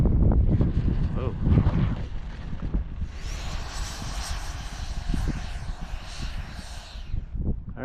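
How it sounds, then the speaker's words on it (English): A FREEWING F-5N 80mm RC model jet lands with thrust reverse, its ducted fan giving a loud rushing whine that swells as the reverse thrust engages, over wind buffeting and bumps close to the microphone. "thrust reverse is pretty effective and much needed for this model"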